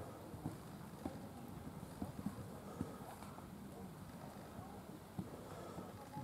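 Hooves of a horse in a working canter during a dressage test, a faint, steady three-beat clip-clop at a distance with wind noise.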